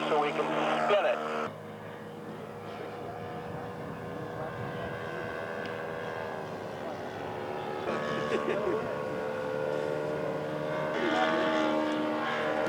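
A 1½ Strutter scale model aircraft with a 70 Surpass engine runs steadily at close range, its buzzing drone shifting pitch a few times as the throttle changes, with voices talking faintly underneath.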